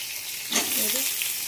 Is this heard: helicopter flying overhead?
no